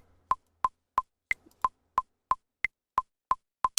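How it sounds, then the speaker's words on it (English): Metronome click at 180 BPM from a DAW, crisp evenly spaced ticks with two higher-pitched accent clicks among them, clean and alone against near silence. "So our click's going to sound like this."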